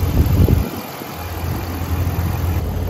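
A Dodge Ram's 5.7 Hemi V8 idles steadily during a coolant flush and bleed, a loud close low rumble that holds constant throughout with no voices.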